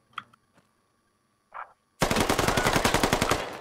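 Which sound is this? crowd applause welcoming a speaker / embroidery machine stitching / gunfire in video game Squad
gunfire in video game Squad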